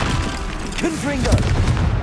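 A Confringo fire spell bursts in the video game Hogwarts Legacy as a loud, booming blast with crackling spread across a couple of seconds, while a voice speaks over it.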